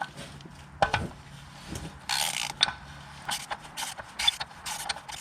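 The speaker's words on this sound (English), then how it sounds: "It hooks onto these two ears here so you can spin this housing off." An oil filter wrench works loose the oil filter housing on a Lexus RX350, giving scattered creaks, clicks and ratcheting scrapes in irregular bursts, close and fairly quiet, with no talk.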